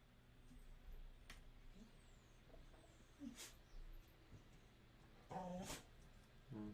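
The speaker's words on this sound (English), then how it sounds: "Okay, let's see how this goes with my dog here." A pet dog whimpers and yips in short, faint bursts scattered through a quiet room, with a few soft thumps and a sharper whine near the end.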